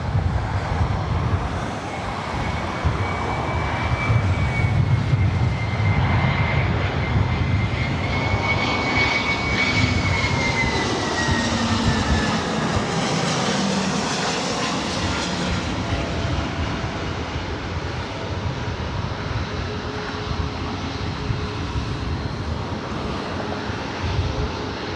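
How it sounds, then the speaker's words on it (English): A KLM Boeing 777-200ER arriving from Amsterdam roars loudly and steadily as it passes, its engine whine rising and falling over a dense rumble. "Looks like possibly we're going to get KLM, the 777-200ER, coming in from Amsterdam, flight 603, 16 minutes out."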